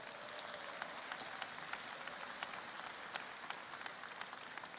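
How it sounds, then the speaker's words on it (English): An audience at a live business training session gives a round of applause, a soft, distant, even patter of many hands clapping steadily throughout. "Give Rick a round of applause for that"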